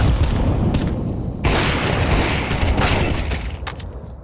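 Grenade and utility explosions in the Counter-Strike 2 video game: a string of loud booms and bursts, one hitting after another with crackling gunfire mixed in, near and dense throughout with no talk over it.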